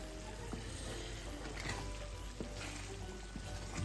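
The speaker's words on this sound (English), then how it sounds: "I'll give it a quick stir through there" Chicken stock being stirred into food in a hot pan, a soft, faint, continuous sizzle with a few light scraping touches.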